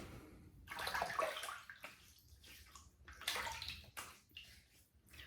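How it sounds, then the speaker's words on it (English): Water splashed onto the face with the hands before a wet shave with a double-edge safety razor: two bursts of close, rushing, sloshing water separated by quieter dripping pauses. "So let's wet the face and get started."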